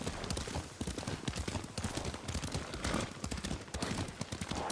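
Steady rhythmic clip-clop of horse hooves at a trot, continuous and fairly close, with a busy background of game ambience in Ghost of Tsushima.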